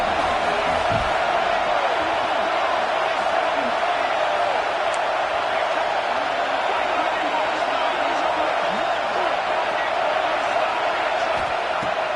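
A large football stadium crowd roars steadily and loudly throughout during a fourth-down play, a dense continuous wall of cheering with no breaks.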